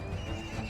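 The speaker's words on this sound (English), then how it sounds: "Loads of enemy horses now retreating by the looks of it." Horses neighing during a Mount & Blade 2: Bannerlord battle: a brief, faint whinny with trembling tonal calls over low battlefield rumble, no talking.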